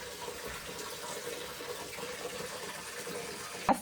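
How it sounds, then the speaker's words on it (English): Hot soapy water running from a kitchen tap into a sink, a steady close rush of filling water, ending with a brief knock as the flow is shut off. "I filled the sink with hot soapy water."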